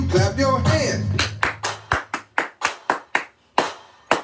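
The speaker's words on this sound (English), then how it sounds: "Let me hear you clap your hands." A group claps hands in sharp unison during a dance warm up, beating out a steady rhythm of single loud claps after a brief stretch of singing or talk at the start.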